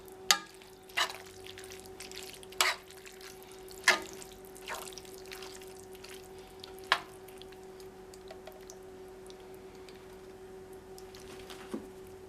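A jalapeno dish cooks down in a pot, giving faint steady bubbling with a low hum and scattered soft wet pops and clinks, and no talking.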